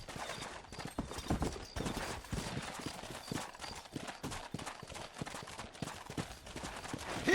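Horse hooves clip-clop at a steady riding pace in the Red Dead Redemption video game, a continuous rhythmic patter of fairly faint hoofbeats on open ground.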